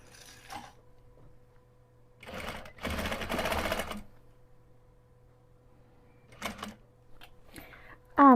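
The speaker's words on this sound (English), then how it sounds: "bring it over to the machine to finish sewing." A sewing machine stitches a quilted zipper pouch in short bursts, with one sustained run of rapid mechanical clatter and a few brief spurts around it, close up, followed briefly by a voice at the very end.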